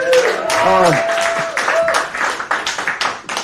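A comedy show audience claps at the close of a set, scattered hand claps growing sparser and more distinct over a few seconds, with cheering and voices mixed in at the start.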